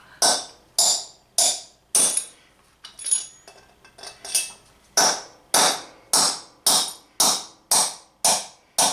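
Sharp metallic hammer blows driving brass valve guides out of a VW 044 Magnum cylinder head ring out in a steady rhythm, about a dozen loud strikes with a brief irregular patch of lighter taps midway.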